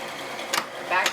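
Sewing machine running a straight stitch through doubled quilting cotton, like joined patchwork pieces: two brief, quiet whirring bursts of stitching over a steady background hum, with someone talking.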